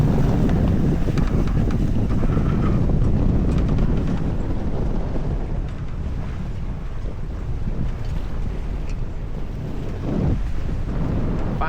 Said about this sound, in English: This is probably the peak wind of the day, so take advantage of it, get some miles in with just under sail.